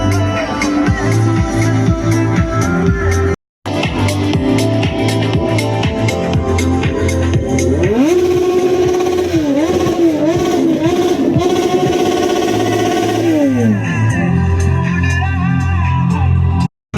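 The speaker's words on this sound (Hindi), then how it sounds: "आपको बाइक नॉइस सुनाते हैं।" Motorcycle engines at a bike festival rumble loud and close, idling in a throbbing burble, then revving up and down in repeated swells before settling back, with brief cuts in the sound.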